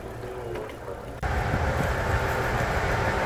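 A train on the Tenryu Hamanako Railway, a low rumble that suddenly swells into a louder, close rolling roar of wheels and carriage noise.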